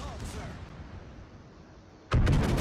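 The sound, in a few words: ship secondary battery gunfire in video game World of Warships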